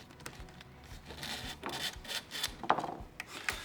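Cable being pulled out of the slot in a Blum Revego pocket door system, a series of soft rubbing and scraping sounds with a few light ticks and clicks, close and quiet with no talk.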